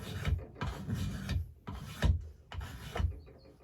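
Repeated rasping strokes of a burr cutting down a wooden axe handle during hafting, four coarse scraping passes in steady rhythm, close and fairly loud with no talk.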